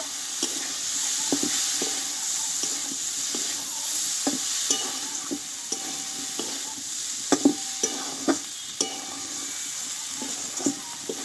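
Okra curry with lemon juice stirred in a pan, a steady sizzle running throughout with repeated scraping strokes of the spoon, several sharper clinks near the end, close and clear with no talking.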